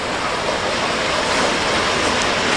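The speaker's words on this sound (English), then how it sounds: "You hear a lot of water" Rushing water flows steadily and loudly along a canal, a dense unbroken roar close by with no voices over it.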